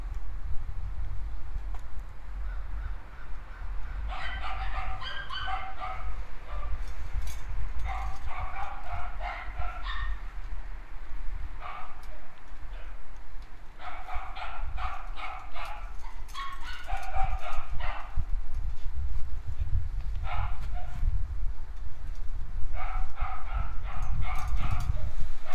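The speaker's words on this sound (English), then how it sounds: "Sorry about my dogs having a fit." Several dogs have a fit, barking and yipping in repeated clustered bursts over a steady low background rumble, some barks closer and louder than others.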